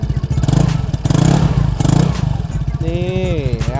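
A Vespa Sprint scooter engine with a split exhaust pipe idles with a low, throbbing exhaust rumble close by, someone talking over it toward the end.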